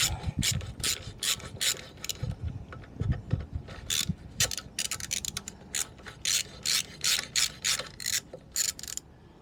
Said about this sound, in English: Okay, got a spanner behind there now.